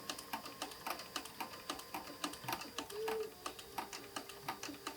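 A sewing machine runs a double stitch across a leather shot bag, with fast, even clicking stitches in a steady rhythm and a brief whirring hum midway.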